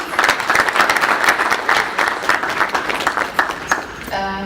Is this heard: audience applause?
yes